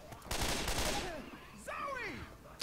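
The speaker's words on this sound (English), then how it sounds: "Trying to shoot your gun one bullet at a time" Video game gunfire in Payday, shots fired one bullet at a time as a series of sharp bursts, loud and close, mixed with game sounds and a voice talking.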